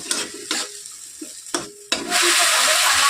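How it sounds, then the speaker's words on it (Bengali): Spice paste for a cauliflower and rohu fish curry is stirred in a hot pan, with several scraping stirs and then a loud, steady sizzle taking over. "মশলাটা কষে নেব"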